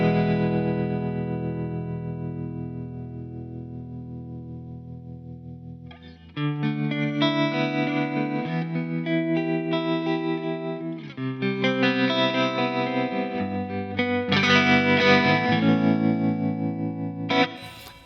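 An electric guitar played through a Joyo Jam Buddy II with tremolo switched on rings out loud and close, first as a long sustained chord and then as several strummed chords whose volume pulses steadily and keeps shimmering as each chord decays.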